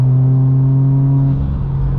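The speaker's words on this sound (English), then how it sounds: "the exhaust, the NVIDIA exhaust I have on this car" A modified Subaru WRX with an Invidia exhaust drives along, its engine a loud, steady droning hum with strong low tones that dips and shifts character toward the end, no voices present.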